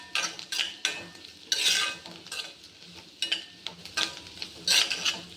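An egg fries in a pan on the stove, with soft sizzling broken by repeated scraping and stirring strokes of a utensil against the pan.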